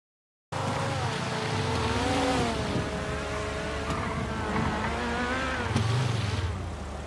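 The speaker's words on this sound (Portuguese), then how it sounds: "Os caras freando." Cars braking with tire squeal and engine revving in a video game, a continuous mix of engine drone and rising, wavering screeches for about six and a half seconds, loud and steady with no talk.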